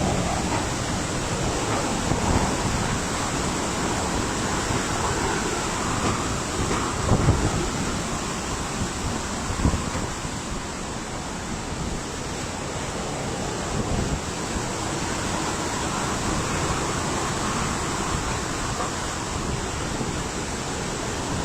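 Typhoon Rolly lashing Bicol: a continuous loud roar of wind and driving rain, with low thunder rumbles and gust surges rising through the storm noise.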